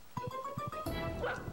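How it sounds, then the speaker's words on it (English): Dog barking sound effect from the PS1 video game The Grinch, a few quick barks and yips up close, followed by a brighter tonal sweep of game sounds. "I don't have to make those fake dog sounds. I got this cool dog sound button."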